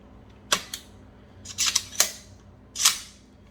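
Bolt of a Palmetto State Armory PA-10 Gen 3 AR-10 rifle being opened: a few sharp metallic clicks and clacks, close and crisp, spaced irregularly over quiet background.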